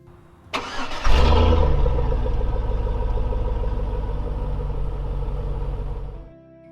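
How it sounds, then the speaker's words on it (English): A 2000–2006 second-generation Chevy Tahoe V8 starts with a sharp crank, then settles into a steady, deep, throaty idle that stays loud and even for several seconds before cutting off. "There's nothing quite like a Chevy V8. It's just got such a throaty sound to it, very smooth, very powerful"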